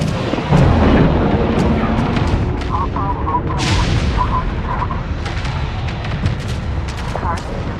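A frigate under fire in Homeworld 3 takes heavy booming impacts and gunfire, with a loud blast early on and a steady barrage continuing underneath, while a synthetic announcer voice speaks.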